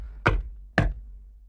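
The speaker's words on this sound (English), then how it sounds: "Then I went to the door and knocked." Two sharp knocks on a house door, about half a second apart, are heard alone against near silence.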